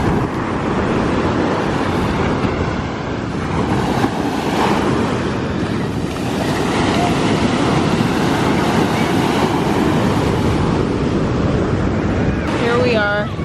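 Steady roar of ocean surf breaking on a sandy beach, loud and continuous with wind buffeting the microphone throughout and faint voices in the background.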